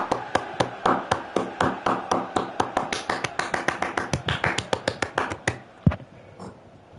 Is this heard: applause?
yes